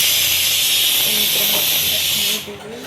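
A loud, steady hiss of steam escaping a pressure cooker cooking lentils, cutting off abruptly near the end, with faint background sounds.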